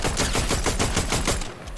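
Rapid automatic gunfire from a pistol in the video game Fortnite, a steady burst of about a dozen loud, evenly spaced shots that stops near the end, followed by a brief quieter tail.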